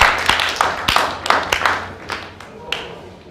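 An audience claps for itself at the end of a conference session, a brief burst of applause with distinct claps that fades out over a few seconds.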